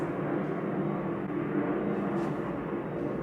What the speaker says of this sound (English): what's going on with all these helicopters?